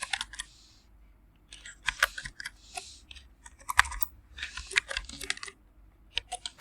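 Someone types a WMIC command on a computer keyboard, with close, crisp key clicks coming in quick uneven bursts and short pauses between them.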